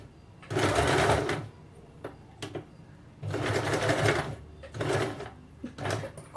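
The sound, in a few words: sewing machine stitching a salwar hem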